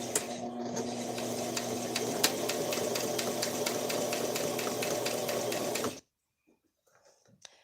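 A sewing machine back stitching through flannel, a fast, steady mechanical whir with rapid ticking for about six seconds before it stops abruptly, followed by near silence and a few faint handling sounds.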